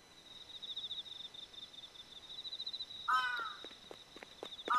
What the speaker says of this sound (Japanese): カラス。